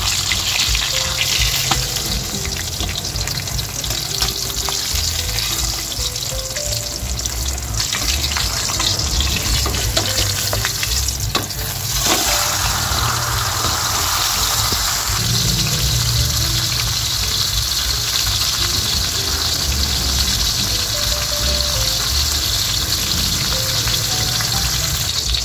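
Milkfish (bangus) frying in hot oil, a steady loud sizzle and crackle that runs unbroken throughout with bubbling texture and no talking.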